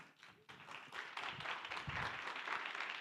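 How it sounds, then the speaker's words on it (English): A conference audience applauds a speaker taking the stage, scattered claps at first that swell within a second into steady, fairly quiet crowd applause at moderate distance. "Big round of applause"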